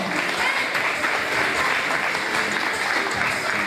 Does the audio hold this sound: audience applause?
yes